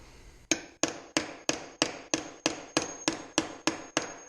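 A regular hammer's rounded face strikes the metal of a Corona 3354 weeder to bend it, giving eleven sharp, ringing blows at a steady pace of about three per second, close and loud with no talking.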